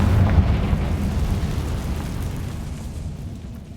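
A blasting spell in a video game goes off as a deep rumbling explosion that starts loud and slowly fades over a few seconds, alone without voices.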